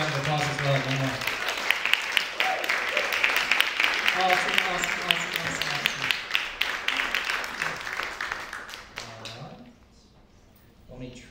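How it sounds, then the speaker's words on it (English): Audience applause at a cabaret performance, sustained clapping under a voice and some whoops, then fading out near the end as the room quiets. "Let's give her one big round of applause as well"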